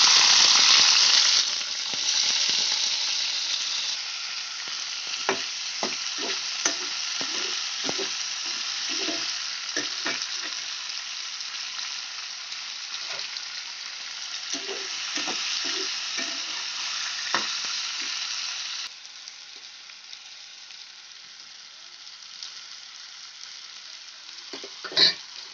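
Mango pieces frying with browned onions in a pan, a steady loud sizzle with scattered stirring scrapes throughout, easing slightly near the end.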